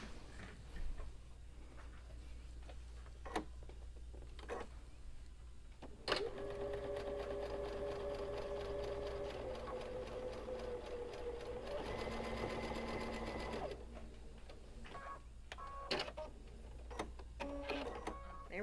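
Sewing machine stitching a casserole hot pad, a steady rapid mechanical whir lasting several seconds between scattered clicks and handling taps, close and fairly quiet.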